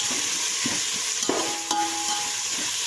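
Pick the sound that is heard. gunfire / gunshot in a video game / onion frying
onion frying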